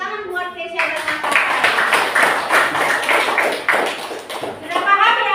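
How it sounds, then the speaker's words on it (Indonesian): Students clap for two classmates in a classroom. The clapping starts after a brief spoken phrase, stays brisk and close for about four seconds, then fades as a voice resumes. "Tepuk tangan buat Tesya dan Nathan."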